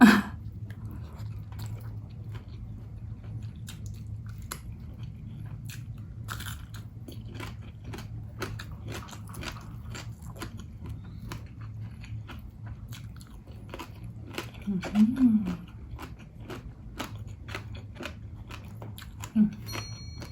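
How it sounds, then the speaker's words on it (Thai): Crispy pork cracklings being chewed close up, a long run of sharp crunching bites over a low steady hum, with occasional brief murmurs. "กรอบมากแคบหมูอันเนี้ย"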